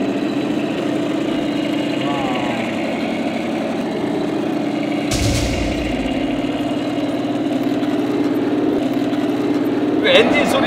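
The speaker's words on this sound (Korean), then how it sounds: "그 엔진 소리 이게 나오는데 이게 독일 레오파드죠?" A radio-controlled model of a German Leopard tank, fitted with upgraded metal tracks, plays a steady droning engine sound effect that runs continuously and fairly loud, with a brief sharp noise midway and people talking over it.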